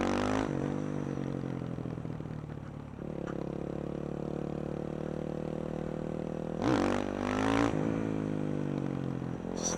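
A supermoto motorcycle engine drones at a steady high rev while the bike is held in a wheelie, with brief louder surges of revving near the start and again toward the end, close and loud throughout.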